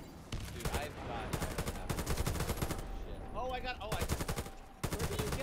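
Rapid automatic gunfire in the video game Warface, dense bursts of loud shots rattling almost continuously with brief gaps, with voices heard underneath.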